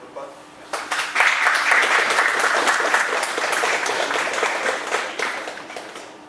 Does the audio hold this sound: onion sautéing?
no